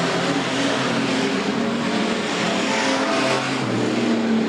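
Street stock race cars drone through turns 3 and 4 in a steady, dense wash of engine noise, the pack sounding fairly distant and evenly loud throughout with no voices.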